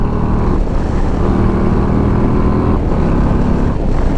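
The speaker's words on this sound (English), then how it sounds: "let's go ahead and give it a rip in third gear" A 2022 Harley-Davidson Street Glide ST bagger pulls hard in third gear on a test ride, giving a loud, continuous low engine roar whose pitch climbs and steps, mixed with heavy wind rush.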